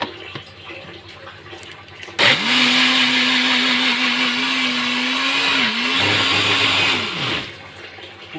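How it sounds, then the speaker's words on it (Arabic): An electric blender running steadily for about five seconds, with a brief dip in speed partway, mixing cake batter ingredients for a chocolate gateau made with half a cup of oil. Quiet handling noises come before it starts. "هخلط كل الكلام ده بقى مع بعضه."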